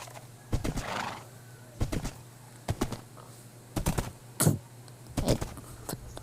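Horse neighs and clip-clopping hooves in Minecraft survival mode, arriving as short repeated bursts spread across the clip, loud and close with no talking.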